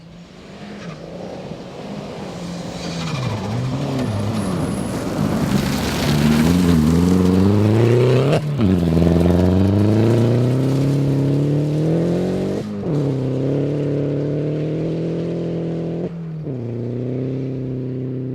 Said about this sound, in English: So as the boost comes on in that car, it comes on really aggressively.